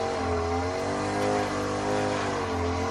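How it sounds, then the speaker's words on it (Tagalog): A lawn mower engine runs steadily and loudly throughout, a constant droning hum with low harmonic tones and no pauses, heard from nearby with no voices over it. "hinahanda na niya yung mower niya kasi mamaya mag-start na siya mag-mower"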